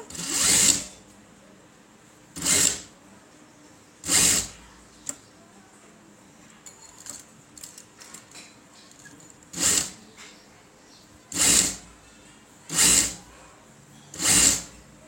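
Sewing machine stitching blouse fabric for thread piping, running in seven short, loud bursts spaced about two seconds apart, with quiet handling noises between them and no talking.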